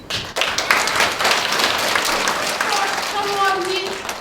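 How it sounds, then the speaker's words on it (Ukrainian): Audience applause at a kindergarten literary and musical performance honoring Ivan Franko: dense, steady clapping starts abruptly after a brief pause and carries on at even loudness, with a faint voice or tone rising over it near the end. "Давайте зараз ми оплесками подякуємо їй за цей красивий подарунок"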